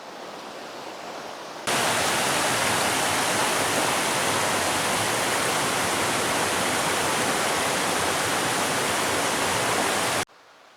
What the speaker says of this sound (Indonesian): Kita udah sampai di air terjun